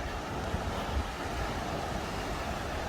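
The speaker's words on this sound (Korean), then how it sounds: "네, 오랜만에 파도 소리 듣네." Ocean waves at night at Yongduam rock on the Jeju coast: a continuous broad wash of surf, with wind rushing over the microphone, steady and moderately loud, and no voices.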